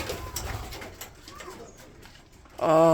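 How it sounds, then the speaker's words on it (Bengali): Soft, low pigeon coos murmur in the background of a quiet loft space, followed by a sudden louder noise at the end. "উপরে অনেকগুলো কবুতর আছে"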